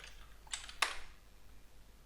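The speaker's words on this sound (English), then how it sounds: "let me just type it in, hang on" Quick keystrokes on a computer keyboard, a couple of close, light clicks in a short burst over a quiet room hum, with no talking.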